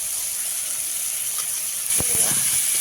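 Grated ginger paste hits hot oil rendered from fish, giving a steady close sizzle and hiss that swells louder partway through, with a few soft clinks of stirring near the end.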